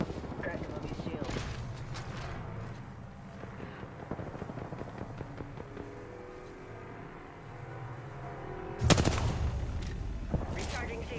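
Bursts of rapid gunfire crackle through an Apex Legends firefight on Kings Canyon, with a sharp, louder volley near the end and voices speaking over the shooting.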